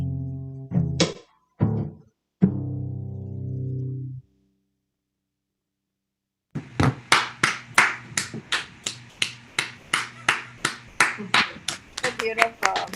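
Hands clap at a steady, even pace for about six seconds, close and distinct, after a cello cover during an online cello gathering; before the clapping come brief tonal voice-like sounds and a pause of silence.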